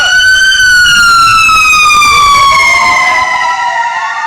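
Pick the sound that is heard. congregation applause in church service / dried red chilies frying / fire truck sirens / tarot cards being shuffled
fire truck sirens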